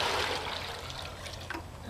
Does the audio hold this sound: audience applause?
no